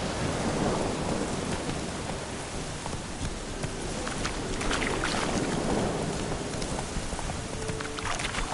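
Thunder rumbles through a heavy rainstorm in The Witcher 3, with a steady wash of rain and wind throughout and low rolling booms swelling now and then, loud and continuous with no talk.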